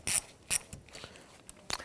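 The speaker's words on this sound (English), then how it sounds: "We'll use a 10mm socket, our extension and ratchet to go ahead and loosen the 10mm nut here" A ratchet fitted with a 10mm socket and extension loosens a battery nut on a 2011-2015 Kia Sorento, giving a few sharp, close metallic clicks at irregular intervals.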